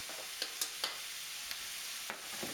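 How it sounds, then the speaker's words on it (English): Garlic sizzles steadily in a hot wok with softened carrots and peppers for fried rice, while a utensil scrapes and taps the pan in irregular strokes. "you only really want to cook the garlic for a minute"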